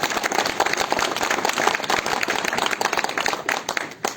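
Audience clapping at a town mayor's New Year address in Saint-Paul-le-Jeune, a dense, loud burst of applause continuing throughout without pause.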